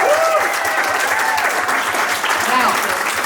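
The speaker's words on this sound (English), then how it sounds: "Ladies and gentlemen, give Braden a big round of applause" An audience at a magic show breaks into sustained, dense applause that fills the whole stretch at steady loudness, with a few voices faintly audible through it.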